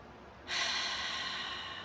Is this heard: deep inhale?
yes